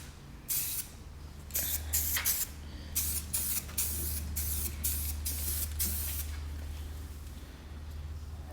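Spray gun applying Eastwood paint to the cowl of a 1969 GTO convertible, repeated hissing bursts of varying length over a steady low engine-like hum, close and fairly loud, with no talking.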